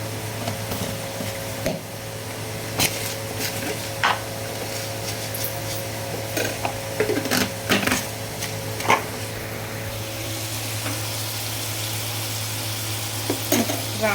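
Tomatoes and chili powder fry in a pan for Andhra-style chicken curry, with a steady, close sizzle and occasional scraping stirs, no voices.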